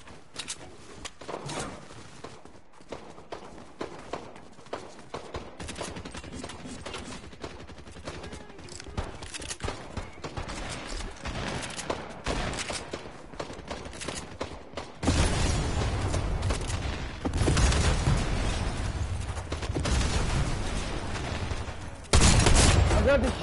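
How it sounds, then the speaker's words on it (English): Bursts of video-game gunfire from a drum shotgun, dense rapid volleys of shots that grow louder and busier toward the end, with a player's voice talking intermittently over them. "I'm going to shoot my gun to do it."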